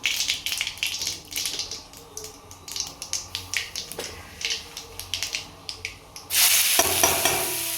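Onion bhaji, a coarse onion dish, sizzles in a pan while a spoon stirs and scrapes in repeated close strokes, with a louder burst of frying near the end, no talking.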